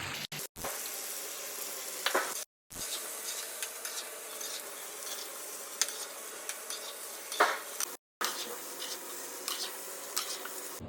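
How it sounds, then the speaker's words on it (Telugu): Ground masala paste frying and being stirred in about two spoons of hot oil, a steady close sizzle with scraping spoon strokes against the pan and brief cut-outs. "ఇప్పుడు మిక్సీ కొట్టిన మసాలా వేసుకోవాలి"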